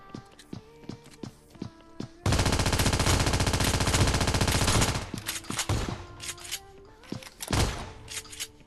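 Shooter video game gunfire: scattered single shots and footsteps, then a long loud burst of rapid automatic fire lasting about two and a half seconds, followed by more sporadic shots and heavy thuds, all with no talking.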